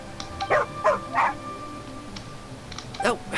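A dog barks and yips in Genshin Impact, several short sharp yelps near each other and then a final pair after a pause, with someone speaking softly in between.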